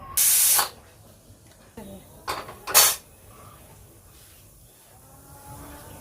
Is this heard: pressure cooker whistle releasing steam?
yes